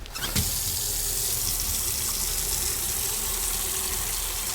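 Water pours steadily from a tap to fill a bucket in an autopsy simulator game, a continuous close hiss and gush that starts abruptly and runs alone without talk.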